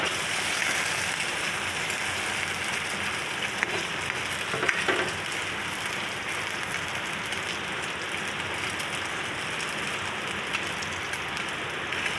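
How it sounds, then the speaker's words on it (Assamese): Two eggs fry in a pan with a soft, steady crackle and sizzle that carries on continuously at low volume, with faint scattered pops and no voices. "কণী দুটা আজি এই ভাজি ল'লোঁ"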